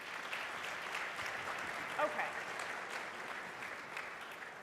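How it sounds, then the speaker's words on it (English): Applause from a conference audience during a plenary session, a moderate spread of clapping heard from a distance that holds steady for several seconds, with a short spoken word near the middle. "Just applause, because I can't see too good."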